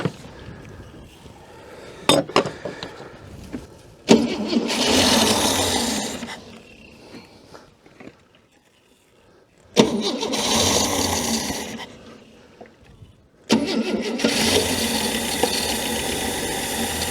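Scrap old Ford Falcon car engine cranking in repeated bursts, with quiet gaps between attempts and a rough, loud catch toward the end; close and alone without talk.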